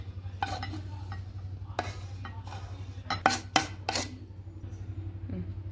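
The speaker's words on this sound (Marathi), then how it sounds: "त्याला काढून घेऊ आपण एका बोलमध्ये" Ghee-roasted coconut scraped from a pan into a bowl in a home kitchen: scattered clinks and scrapes of a spoon against metal, with a couple of louder knocks over a low steady hum.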